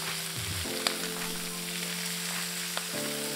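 Wood ear mushrooms fry and sizzle in oil infused with spices, a steady close hiss with a couple of sharp pops, while a humming tone runs underneath and a utensil briefly stirs near the start.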